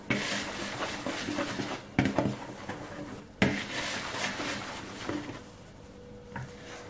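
Dry pancake ingredients, including vanilla Canderel sweetener, being stirred together in a bowl, giving steady close scraping and light clinking of utensil against the bowl, with a few sharper knocks along the way.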